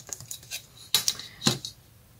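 Card paper being cut to 10 cm for an autumn butterfly card: a few crisp, metallic snips and clicks close by, sharp and well separated in a quiet room.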